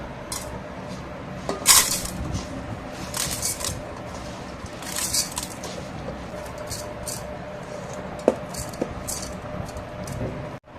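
Washed rice and lentils being tipped into a rice cooker pot for plain khichuri, with wet grains pattering and the metal pot clinking and rattling in bursts, some sharper knocks standing out, no talking.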